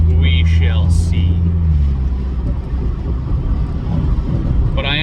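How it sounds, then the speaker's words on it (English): Exhaust drone of a Toyota 2JZ-GTE-swapped Lexus IS300 while driving, a steady loud low rumble with a rising note early on, heard from inside the car throughout. "you heard the exhaust there, I think"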